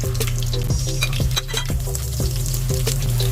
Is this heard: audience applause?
no